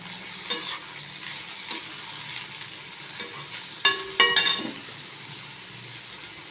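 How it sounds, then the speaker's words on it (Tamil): Chopped vegetables, including bitter gourd, fry in groundnut oil in a thick Indalium pan, a steady close sizzle broken by a few scraping stirs and metallic clinks of a spoon against the pan. "நல்லா கடலை எண்ணெயில் இது எல்லா காயும் போட்டுக்கலாம்"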